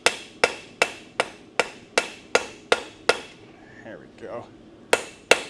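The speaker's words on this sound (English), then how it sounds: "I'm going to use this ball peen. Forge in the part of the recurve here." A ball peen hammer strikes hot steel on a mounted anvil while forging a recurve, about ten sharp ringing blows in a quick even rhythm, then a short pause with a brief spoken remark and two final strikes.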